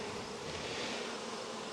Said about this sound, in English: The old bees will fly away and the younger bees will be left behind